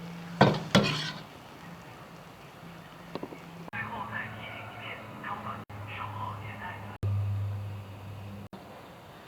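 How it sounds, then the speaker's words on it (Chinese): Pork cracklings stir-fried with salt in a hot pan until crisp: a metal spatula scrapes and clanks against the pan in bursts, with a low sizzle underneath and faint voices in the background. "这个油渣不能是凉的， 脆的，要这样炒出油渣才脆。"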